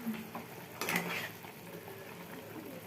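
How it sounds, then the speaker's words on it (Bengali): Bengali shukto vegetable curry bubbles in a pot at a soft, steady simmer, with a brief clatter of utensils near the start. "দেখো ফুটে গেছে শুক্তো।"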